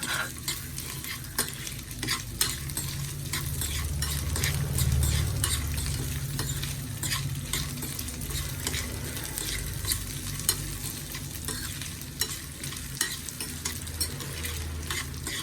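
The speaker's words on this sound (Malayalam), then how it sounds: "തേങ്ങാക്കൊത്തൂടെ ഇട്ട് കൊടുക്കാം ഇത് നന്നായിട്ട് മൂപ്പിച്ചെടുക്കാം" Coconut pieces fry and get stirred in a pan of hot oil, with a steady close sizzle and repeated scraping strokes continuing throughout, no voices.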